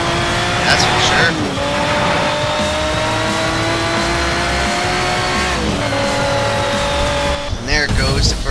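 A McLaren F1 race car in the Need for Speed Shift racing game roars with a loud sustained engine whine that shifts pitch through gear changes, mixed with tire squeal, while a voice talks over it.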